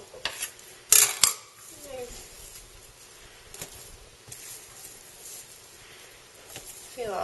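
A metal bench knife cuts and taps down through pizza dough on a work surface, giving a couple of sharp clacks near the start and then a few soft scrapes amid quiet.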